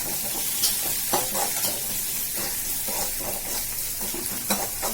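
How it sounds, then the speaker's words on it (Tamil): Food sautéing with salt in a pan at a home stove, a steady close sizzle with scraping stir strokes and small clicks recurring throughout, no voices. "உப்பு கொஞ்சம் சேர்த்துக்கலாம். வதக்கி விட்டுக்கலாம்."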